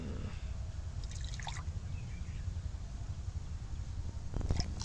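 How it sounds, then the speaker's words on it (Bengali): Rinse water from a mixer jar poured into semolina papad batter, a steady close trickle and pour with a few brief splashes, running throughout with no talking. "মিক্সিটা ধুয়ে জলটা দিয়ে দিলাম"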